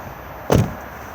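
A single short mechanical clunk as the bonnet release on an Elddis Majestic 255 motorhome is pulled, close and sharp against a quiet background.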